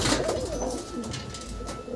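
A female Kalanka breed pigeon coos softly and fairly close, a couple of low throaty rolling calls over faint background noise, with no talking.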